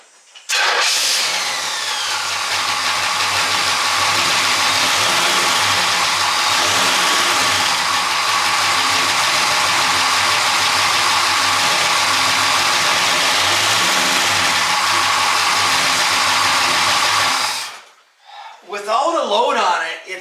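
A car engine, its fan removed while a rattle is traced, starts and then idles steadily and fairly loud for most of the stretch before cutting off, followed by a short burst of other noise.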